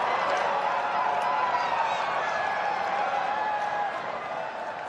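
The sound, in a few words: Indian fans cheering and applauding in the Gabba crowd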